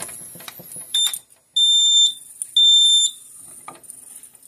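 A Notifier NFS2-640 fire alarm control panel sounds during a reset test: a few short, shrill electronic beeps, then two longer half-second piercing tones separated by brief gaps, loud and close.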